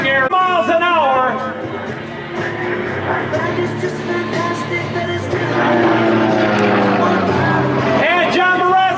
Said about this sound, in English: He's going to bend that aircraft skyward